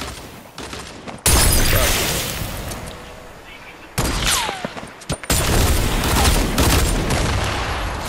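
Heavy, booming blasts and gunfire in the video game Fortnite, with thunderous bursts at the start and midway over a loud, churning battle din, while players talk over it.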